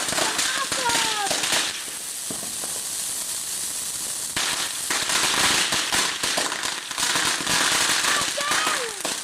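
New Year's fireworks firing outdoors near a tree and trampoline, with loud crackling bursts, whistling streaks and popping over about nine seconds while excited people shout and talk.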